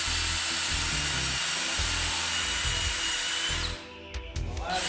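A light power drill bores a pilot hole in wood while building a chicken tractor lid, a loud steady whine for about four seconds before winding down and stopping, with brief clicks and handling noise after.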